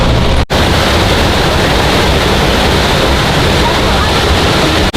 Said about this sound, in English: So it's got a waterfall.